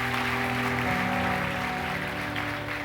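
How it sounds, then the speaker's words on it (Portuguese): Church congregation applause fills the space as a dense, continuous wash of clapping under sustained musical tones, fairly distant and moderately quiet. "Dê o melhor aplauso que você pode dar a Deus."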